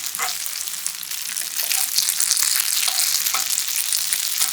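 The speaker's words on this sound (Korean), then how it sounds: "충분히 볶아 고추기름 내주고 스파게티를 넣어주세요" Spaghetti stir-frying in chili oil in a pan, giving a steady, loud sizzle with brief stirring scrapes and crackles throughout and no talking.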